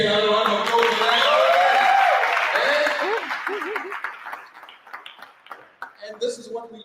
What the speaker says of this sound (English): Can you give me another round of applause for that?